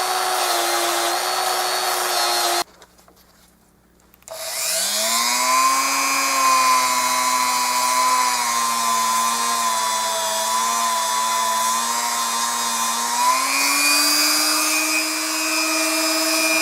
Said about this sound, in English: So we're polishing this thing